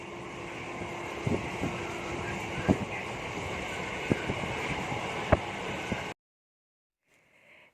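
A train rumbles at Chandpara railway station, a steady mechanical drone with intermittent clanks and knocks, then cutting off abruptly into near silence.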